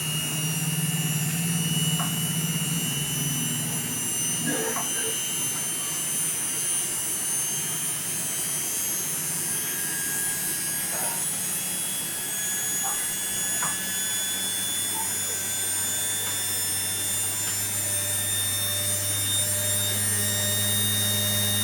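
An IFB front load washing machine spins at full RPM during a repair test, a loud continuous high whine and hum held steady throughout with no speech.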